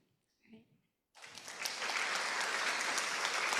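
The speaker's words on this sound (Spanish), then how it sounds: "Queremos a darle un aplauso a Ivette" An audience at a professional learning day bursts into applause after a brief quiet moment with a faint voice, the clapping building quickly into steady, dense, fairly close applause.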